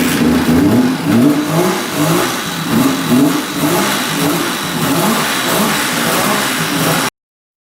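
A 1974 Suzuki GT380 two-stroke triple motorcycle engine revs steadily and loudly up close, with a rough, pulsing exhaust note that rises and falls in repeated waves, no talking.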